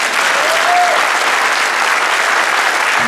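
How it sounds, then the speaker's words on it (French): Loud, dense applause fills the European Parliament chamber for a live appearance by rally driver Sébastien Loeb, a steady wash of many hands clapping close and continuous from start to finish. "tout le Parlement européen va vous applaudir"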